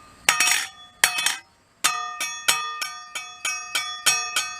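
A metal putty knife blade is struck repeatedly, ringing out in bright, bell-like tones, a few spaced hits followed by a steady series of evenly timed pings.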